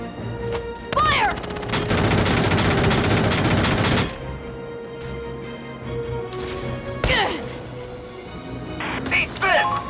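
Rapid gunfire rattles in Valkyria Chronicles 4, a dense sustained burst of automatic shots followed by scattered single cracks, with shouting voices over the battle.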